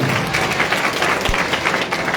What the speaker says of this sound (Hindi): जोरदार तालियों से स्वागत करें मंत्री जी